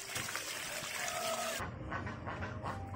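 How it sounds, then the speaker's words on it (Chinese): Warm water pours and trickles into a bowl of cuttlefish being soaked during home cooking, a steady close splashing stream that changes tone partway through as the vessel fills. "现在加温水。"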